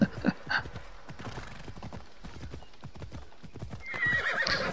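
Rhythmic hoofbeats clop steadily as a horse moves along in Assassin's Creed Odyssey, with a brief neigh at the start and another whinny near the end.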